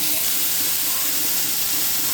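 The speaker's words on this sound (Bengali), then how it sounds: "এগুলোকে একসাথে ভেজে নেব লবণ হলুদ দিয়ে" Potato and pointed gourd pieces fry with onion, salt and turmeric in a pan, giving a dense, steady sizzle and hiss that stays close and loud throughout.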